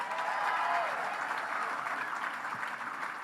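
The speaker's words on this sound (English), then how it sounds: "So give Carol a big round of applause." An audience at a League of Conservation Voters event, with President Obama speaking, breaks into steady applause that fills the whole stretch at a fairly even level, with some tonal murmur from the crowd early on.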